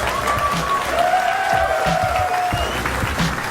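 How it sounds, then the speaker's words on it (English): An audience claps steadily throughout at a Clash Royale tournament semi-final, a broad wash of many hands with a few sharper individual claps and a faint tonal whine drifting across it. "one more time, a round of applause."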